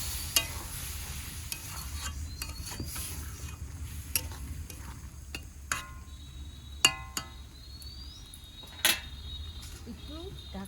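Minced lamb cooks in spices with a little water in a pan, giving a low steady sizzle. Spoon scrapes and clinks sound against it at irregular intervals.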